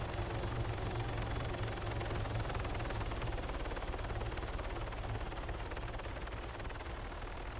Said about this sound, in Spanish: Helicópteros Falcon saliendo.